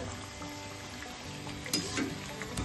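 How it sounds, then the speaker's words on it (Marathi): Two sabudana vadas deep-fry in oil in a kadhai over a low flame, giving a faint, steady sizzle and bubbling with a few louder pops. "गोल्डन ब्राऊन होईपर्यंत आपल्याला तळायचे आहेत. मी 2 वडे टाकले आहेत कढईमध्ये."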